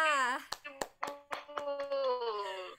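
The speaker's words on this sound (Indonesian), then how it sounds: "tepuk tangan untuk kita semua" A small group claps a few sharp, uneven beats while a voice rises and falls through the pattern.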